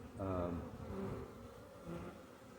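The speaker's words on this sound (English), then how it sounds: "She buzzed me right in front of my eyeball." A honeybee buzzes close to a beekeeper's face at an outdoor hive, a steady droning hum rising and falling as it hovers near, with faint talk underneath.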